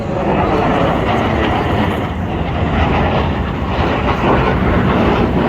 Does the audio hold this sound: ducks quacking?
no